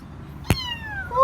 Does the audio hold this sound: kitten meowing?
yes